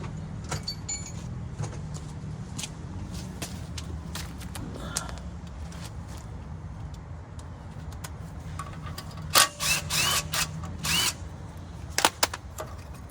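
A wrench works a 10 mm fitting loose on the brake line of a Ford F-150 during a wheel bearing job. Scattered metallic clicks and clinks sound close by over a low hum, and a quick cluster of ratcheting taps comes near the end.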